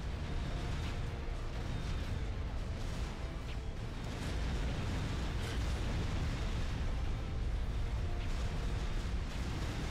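Mines blow up in War World: Tactical Combat on Xbox 360, a dense continuous rumble of blasts and booming explosions that stays loud and unbroken the whole time.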